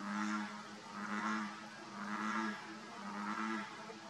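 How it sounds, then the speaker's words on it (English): Deep, resonant croaks from bullfrogs at a pond, repeating in a slow rhythm of about one call per second against a quiet outdoor background. "Listen to those beautiful bullfrogs."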